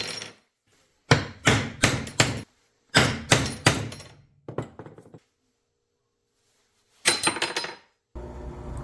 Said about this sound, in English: you always want to use a center punch like this when you're going to be drilling through metal